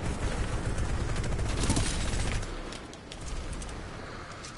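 Weapon fire in Titanfall 2, a dense loud stream of rapid shots for a couple of seconds that then drops to quieter scattered shots and background game noise.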